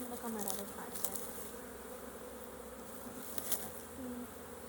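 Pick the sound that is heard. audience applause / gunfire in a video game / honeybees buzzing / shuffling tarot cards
honeybees buzzing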